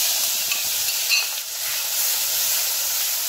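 Masala paste stirred into a hot sesame seed and asafoetida tempering for a chickpea usal, giving a steady bright sizzle and hiss with faint scraping of the spoon, close and continuous.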